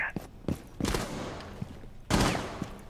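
Gunfire in the tactical shooter Rainbow Six Siege, used to shoot a hole through a wall: several sharp shots and bursts with crumbling debris, loud and close, spread across a few seconds.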